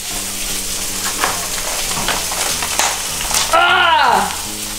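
Chicken frying in a pan gives a steady, close sizzle with crackling bursts throughout, and a brief scraping stir near the end.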